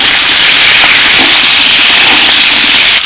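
Carrots, potato, papaya and onion hitting a hot pan for a vegetable and meat curry, producing a loud, steady broadband sizzle that holds without break throughout, with no voices.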